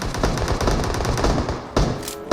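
Loud, rapid automatic gunfire in the video game PUBG Mobile, a fast steady burst of close shots that briefly breaks off and resumes near the end.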